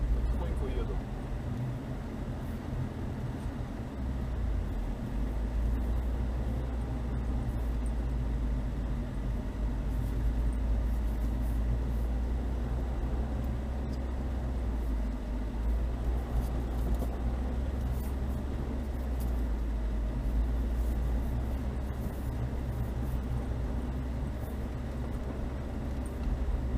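A car creeping slowly along a dug-up forest track, giving a low, steady engine rumble with faint knocks and rattles, under a voice.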